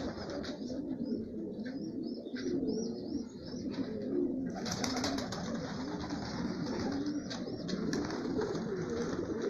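Flock of young pigeons that cannot fly yet, cooing steadily on the ground, a continuous layered murmur of soft coos close by with occasional wing flutters and no talking.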